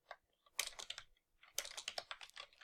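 Quick bursts of clicky typing on a computer keyboard, two clusters of close, crisp keystrokes separated by a short pause, no voices.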